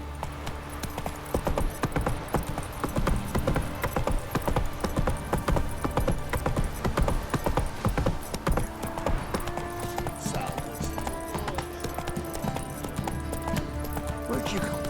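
Horse hooves clip-clop in a quick, steady trot in The Witcher 3: Wild Hunt, close and continuous, with game music and ambience layered underneath and a voice speaking over it.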